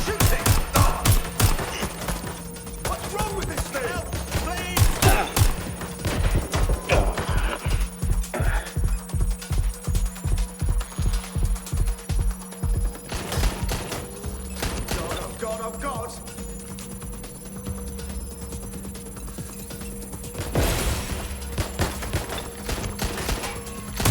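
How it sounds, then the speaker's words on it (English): Gunfire in the video game Watch Dogs Legion: rapid automatic bursts and single shots crackle over a background game soundscape, with a voice speaking at points. "shots fired!"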